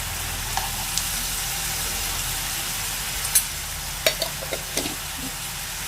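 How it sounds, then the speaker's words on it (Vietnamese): A vegetarian dish with lemongrass and turmeric stir-frying in a pan, a constant hissing sizzle with a handful of sharp utensil taps and scrapes scattered through, no speech. "Giờ mình sẽ xào nó lên"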